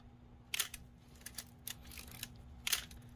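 A Pentax K1000 film camera with a 50mm f/2 lens makes several crisp mechanical clicks up close, its shutter firing at 1/1000 second over a steady low hum, with no voices.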